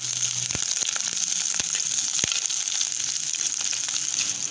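Crushed ginger, garlic and slit green chillies frying in oil in a pan, a steady close sizzle with a few soft clinks of stirring, no talking.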